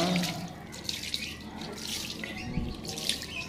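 Water runs steadily, splashing and rinsing over a motorcycle battery being repaired, with a continuous hiss and a few small splashes.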